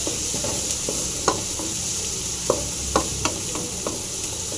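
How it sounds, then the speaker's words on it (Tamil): Green chillies and crushed garlic frying in oil in a pan: a continuous close sizzle broken by several sharp spoon clicks and scrapes against the pan, no voices. "இப்போ நல்லா நல்லா ஃப்ரை ஆகும்."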